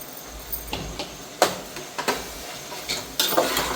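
A spoon scrapes and clinks in a pan as food is stirred, with soft sizzling underneath and irregular knocks.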